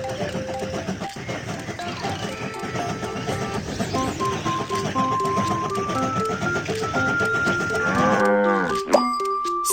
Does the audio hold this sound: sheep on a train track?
yes